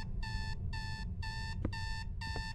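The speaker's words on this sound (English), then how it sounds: "That's a weird place to have an alarm at." An alarm clock rings inside the video game Is Simon There, sounding as five evenly spaced bursts of electronic beeping, loud and steady, with no voices.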